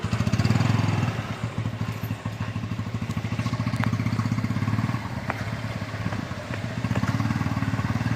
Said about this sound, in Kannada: ಗಾಡಿ ಸ್ಟಾರ್ಟ್ ಮಾಡಿ ಫಸ್ಟ್ ಗೇರಲ್ಲಿ ಗಾಡಿ ಮೂವ್ ಮಾಡೋದನ್ನ ಕಲ್ತಿದ್ದಾಳೆ ಇವತ್ತು